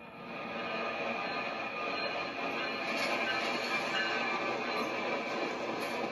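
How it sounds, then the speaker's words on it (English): A train roars past at close range, a steady loud rush of wheels and rail noise with a faint high squeal riding on top. "the train blazes by with only inches to spare"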